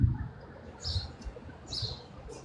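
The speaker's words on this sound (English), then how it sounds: "I'm by the beach. There's a nest of parrots." Parrots call from a nest near a beach, two bright, squawky bursts a second apart over low, rumbling background noise.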